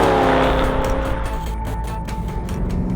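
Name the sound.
BMW E92 M3 Competition naturally aspirated V8 engine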